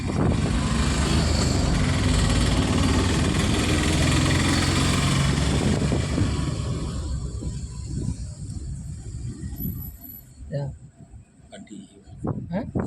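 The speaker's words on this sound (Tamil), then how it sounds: "வண்டி வருது." An arriving vehicle's engine roars loud and close for several seconds, then fades into a lower rumble with scattered knocks and background noise.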